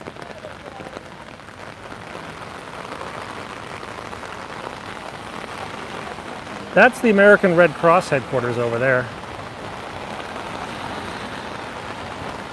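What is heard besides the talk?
rain falling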